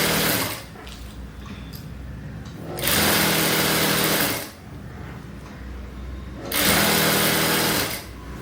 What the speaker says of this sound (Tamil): இங்கே வந்து ஒரு ரஃப் தையல் கொடுத்து இதை அப்படியே வந்து தனியாக தைக்கணும்